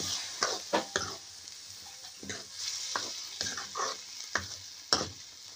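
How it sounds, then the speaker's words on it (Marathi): A spoon scrapes and stirs onion curry with ground paste and chilli frying in a pan over a strong wood fire, with a string of sharp, irregular scraping strokes over a soft, continuous sizzle. "हे बघा अशा पद्धतीने व्यवस्थित ते हलवून घ्या"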